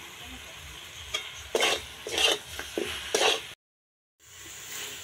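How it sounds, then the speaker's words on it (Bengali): Chalta pickle with sugar and spices stirred in a pan, a few close scraping strokes that alternate with soft sizzling, then a short silence before a quiet sizzle returns. "এটা খুব ভালো করে নাড়িয়ে নিতে লাগবে যাতে চিনিটা খুব ভালো গলে"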